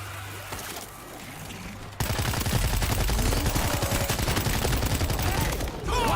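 Gunfire in the zombie shooter World War Z erupts after two seconds of background noise, a dense, loud, continuous automatic volley with overlapping shots and some voices mixed in.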